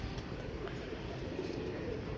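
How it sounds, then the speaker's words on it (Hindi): Pigeons coo softly in a loft of homing pigeons, low murmuring calls buried in a steady, dense background hum without any talk. "कबूतर निकल के आ गया"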